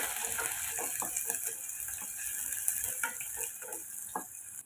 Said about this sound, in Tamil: கட் பண்ண வெங்காயம் ஒரு மிளகாய் சேர்த்துட்டு இதை வதக்கி சேர்த்துக்கலாம்